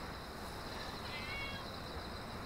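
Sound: kitten meowing

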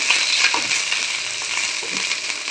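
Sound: curry leaves frying in oil

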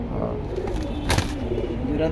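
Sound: red cobra pigeon cooing

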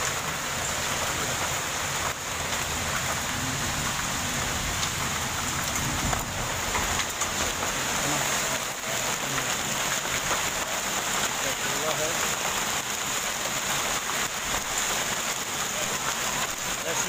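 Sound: heavy hailstorm with large hailstones in Delhi

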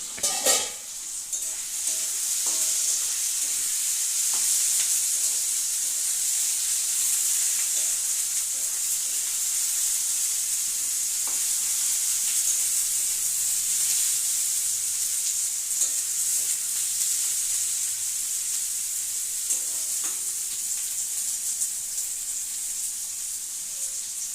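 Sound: spices frying and being stirred in a pan

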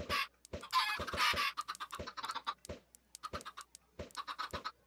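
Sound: chickens clucking in the video game Minecraft

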